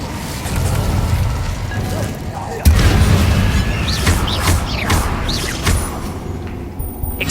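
An Incendio fire spell in Hogwarts Legacy erupts during a combat scene: a dense, continuous roaring rush with a sudden heavy boom partway through, while swooping effects and crackles layer over it.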